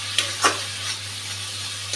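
Mixed masala paste going into frying onions: two quick scrapes of a spoon are followed by a quiet, steady sizzle of oil under a low hum, near and otherwise calm.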